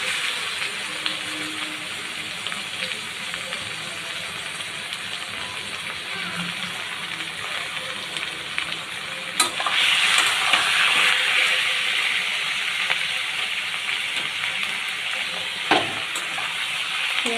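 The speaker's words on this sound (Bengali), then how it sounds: "পেঁয়াজ আর মাংসটা ভালো করে ভাজা হয়ে গেলে" Chopped onion and chicken mince fry in a pan with a steady, loud sizzling hiss that swells midway, with no voice.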